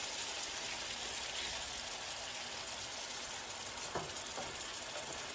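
Ground beef with extra liquid sizzles and bubbles steadily in a pan, a soft continuous frying hiss, with a couple of faint utensil clinks near the end.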